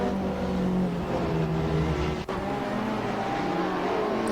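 Race car engine in Assetto Corsa holding a steady, loud drone with a faint rising whine, one brief dip partway through, on cold tyres at a race start.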